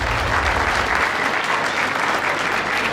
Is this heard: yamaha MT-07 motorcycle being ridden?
no